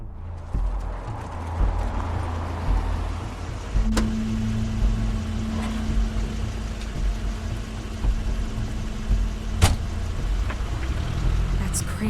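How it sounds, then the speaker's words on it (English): Crane's car arriving in The Wolf Among Us, a low engine rumble rolling in, joined by a steady hum and a couple of sharp clicks or clunks, with voices talking over it. "Crane's car."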